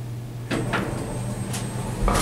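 An elevator door at an office complex slides with a soft rumbling glide and a few light clunks, followed by a louder thud as it stops, against a steady low hum.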